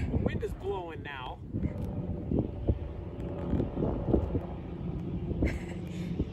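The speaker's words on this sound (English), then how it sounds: "The wind is blowing now." Wind gusts buffet the microphone outdoors at a septic line installation, a rough, steady rumble running under people talking nearby.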